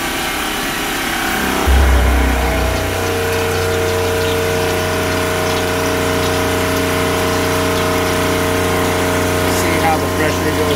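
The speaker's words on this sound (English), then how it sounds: "all I have to do is turn on the boost pump and then turn on the high pressure pump" A boost pump and a high-pressure pump start up in a SeaWater Pro watermaker with an automatic pressure regulator, a loud low thump at switch-on giving way to a steady humming motor whine with constant tonal drone, close and continuous.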